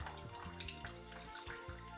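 Hot water pours steadily into the reservoir of a water-cooled PC radiator, a continuous close splashing and gurgling with no talk.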